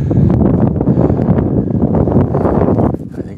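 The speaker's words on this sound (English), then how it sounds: "And that north wind, very cold." Cold north wind at about minus ten blows across a microphone outdoors near a bee barn on a bright winter day, a loud continuous buffeting rumble with no speech.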